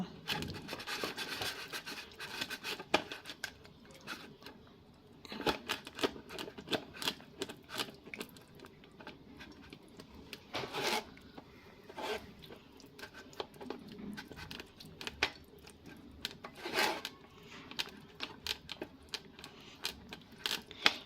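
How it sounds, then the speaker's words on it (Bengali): Raw green mango puree pushed through a strainer with a ladle, a steady faint rubbing and scraping with frequent small ticks and clicks of metal on mesh, close by and continuous without speech. "এর মধ্যে হাতাই করে আমি এই পিউরিটা দেব আর ছেঁকে নেব"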